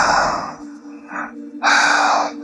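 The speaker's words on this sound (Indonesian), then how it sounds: "Nafasku masih terengah-engah." Heavy panting breath after a night bicycle ride, loud and close, with a couple of strong gasping breaths separated by a brief quieter pause.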